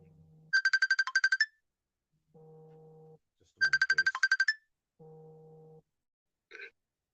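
An incoming-call ringtone repeats twice, each time a fast trilling burst followed by a steady lower tone, loud and electronic, with a brief chirp at the end and no talking.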